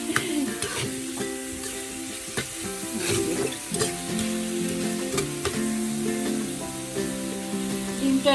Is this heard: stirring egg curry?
yes